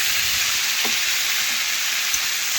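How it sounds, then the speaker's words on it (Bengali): Boiled papaya pieces sizzle in a pan of hot oil as they are stirred with a metal spatula, making a constant close frying hiss with a few faint scraping touches and no speech. "এখন খুরপি দিয়ে ভালোভাবে একটু নাড়াচাড়া করে একটু ভেজে নিচ্ছি"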